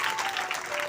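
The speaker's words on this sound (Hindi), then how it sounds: "समझ रहे तो ताली बजाएं प्रभु की महिमा के लिए।" A church congregation claps together during a sermon, giving a dense burst of applause that fills the whole brief moment.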